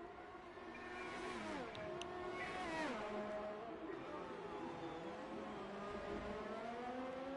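A race car engine in a racing video game whines and shifts pitch as it speeds along, its tone rising and falling steadily, heard at a moderate distance.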